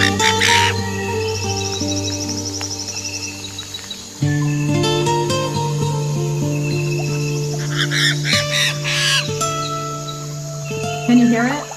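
Goose-like honking and bird calls from a played bird recording ring out over steady tonal background sound, with a few louder calls and chirps scattered across the stretch.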